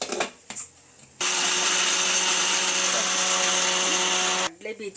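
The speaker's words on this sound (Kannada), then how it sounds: "ಅದನ್ನು ಮಿಕ್ಸಿನಲ್ಲಿ ಮಾಡ್ಕೊಳ್ಳೋದು" A mixer grinder grinding roasted gram and chickpeas into powder whirs loudly and steadily for about three seconds, a dense high-pitched grinding roar that starts and stops abruptly, with brief clatter before and after.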